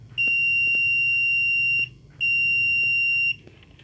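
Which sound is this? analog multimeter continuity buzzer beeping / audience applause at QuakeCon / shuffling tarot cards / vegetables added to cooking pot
analog multimeter continuity buzzer beeping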